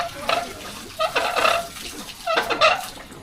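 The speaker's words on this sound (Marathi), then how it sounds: "अशा प्रकारे बावडीतून पाणी काढलं जातं कोकणात." Water is drawn from a village well in Konkan by pulling a rope, with splashing and sloshing that comes in short bursts as the bucket swings and spills nearby, and voices are faintly present.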